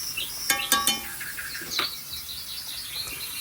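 Birdsong plays from a television: a few sharp, bright chirps and short whistled calls come in a quick cluster near the start, then sparse softer tweets over a steady background hiss.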